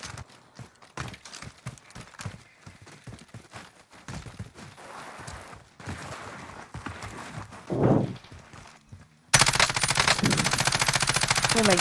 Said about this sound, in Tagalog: nagulat pa ako sa baril mo